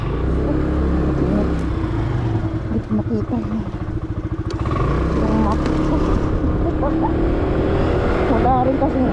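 A motorcycle being ridden on a hot day around a leisure farm, steady engine drone and wind rumble throughout with a person talking over it.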